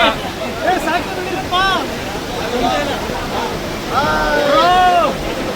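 A steady broadband rush of flowing water at Kottiyoor Shiva temple in Kerala fills the clip, with people talking over it nearby.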